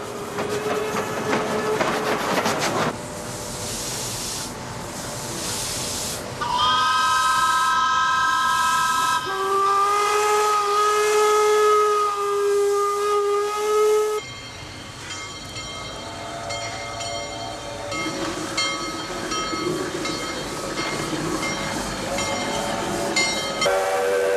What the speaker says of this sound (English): the week of Steam Expo brought a whole collection of steam trains together